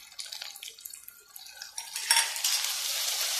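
Cabbage curry with radish, carrot and ground spices being stirred and mixed in a pan, a run of light clinks and scrapes that turns into a steady, louder wet sizzle partway through.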